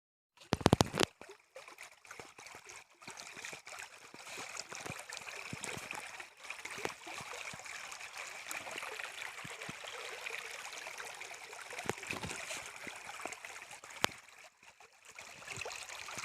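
A river stream flows through a Nagaland forest with a steady, close rushing and trickling wash that carries on without a break. A few brief knocks sound near the start.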